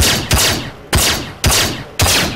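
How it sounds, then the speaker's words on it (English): Four loud, sharp weapon blasts in the video game Star Citizen, evenly spaced about half a second apart, each leaving a long ringing tail that fills the gaps. "Can you hear me shooting?"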